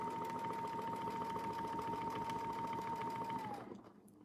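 A sewing machine running steadily at close range, stitching tacking stitches during ruler quilting, with a constant mechanical hum and whine that winds down and stops near the end, no voices.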